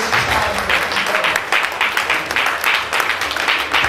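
Steady crowd applause fills a church service, a dense wash of many hands clapping at full volume without pause for several seconds.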